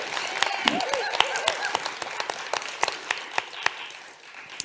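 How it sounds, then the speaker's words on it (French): Applause from a theatre audience at a premiere, a dense patter of many hands with sharp individual claps standing out, steady for several seconds and mixed with a few voices from the crowd. "On l'applaudit encore une fois, s'il vous plaît."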